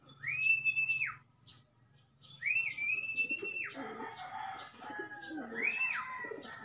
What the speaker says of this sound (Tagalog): First bird arrived from 90 kilometer.